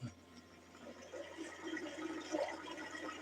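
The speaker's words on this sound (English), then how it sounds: "listening to a tiny little waterfall, kind of a babbling brook, fresh spring water" Fresh spring water trickles over a tiny waterfall into a babbling brook outdoors, a soft, steady splashing wash that runs continuously at moderate distance with small bubbling swells.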